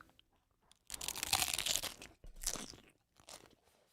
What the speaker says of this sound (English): These Taco Bell crunchy taco shells, they are crunchy. Listen to this crunch.